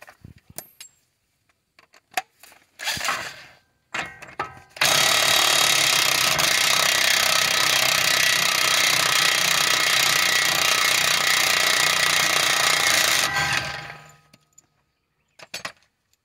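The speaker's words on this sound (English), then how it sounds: "let's go ahead and remove this axle nut. 35 millimeter." Impact wrench removing a 35 mm front axle nut on a 2009-2017 Chevy Equinox during a driver-side CV axle replacement, with a few brief bursts, then a loud, sustained hammering rattle for about nine seconds before it cuts off.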